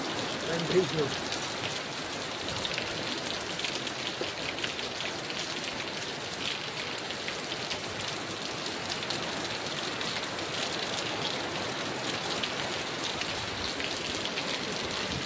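Steady heavy rain drums and hisses continuously on surfaces nearby, an unbroken dense wash of sound throughout.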